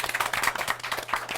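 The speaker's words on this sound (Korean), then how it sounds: "오늘 수고해주신 MC 세 분한테 박수 부탁드리겠습니다" Clapping from an audience at a Korean CEO talk-show event, a short burst of dense, steady applause for the hosts lasting just over a second.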